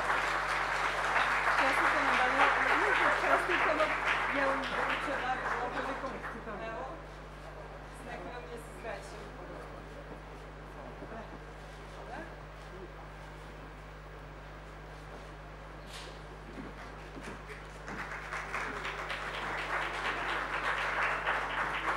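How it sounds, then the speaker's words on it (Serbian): An audience applauds at an award ceremony, with broad crowd clapping swelling at the start, fading into a quieter hall with voices, then rising again toward the end. "Ajmo jedan veliki aplauz za Milicu i Danila."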